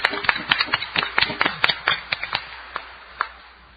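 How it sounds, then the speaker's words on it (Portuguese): A burst of hand clapping from a church congregation at Mass, loud and close, with quick irregular claps that thin out toward the end. "Uma salva de palmas bem forte"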